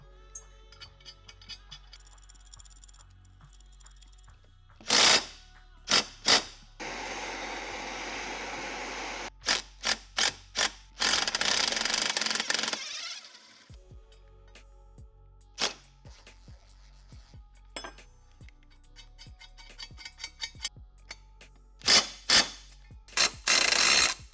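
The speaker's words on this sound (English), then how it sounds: "I'll just be locking two nuts against each other on the stud, and that will enable me to thread the stud out of the case." A wrench ratchets and clicks while backing a stud out of a motorcycle engine case using two nuts locked together, with sharp metallic clicks and clacks in irregular bursts and a few longer grinding stretches, close up.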